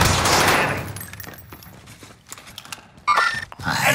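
Gunfire in the Warzone video game: bursts of rapid shots and sharp cracks, loud and close, with quieter gaps between volleys and a heavy burst near the end.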